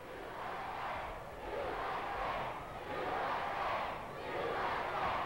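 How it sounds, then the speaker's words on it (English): A large indoor crowd at a wrestling match roars and cheers in continuous swelling waves, loud and steady with no single voice standing out. "The crowd is getting into it."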